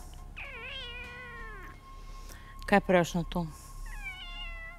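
A cat meows in a long, drawn-out wail, then gives several short, loud meows close by. A person speaks briefly between the cries.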